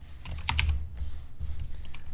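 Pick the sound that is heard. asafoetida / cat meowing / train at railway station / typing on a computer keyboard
typing on a computer keyboard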